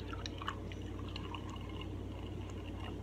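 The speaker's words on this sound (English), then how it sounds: "Watch when I pour." Pepsi Fire soda pours from a bottle in a steady liquid rush with faint splashing and dripping, fairly quiet and continuous for a few seconds.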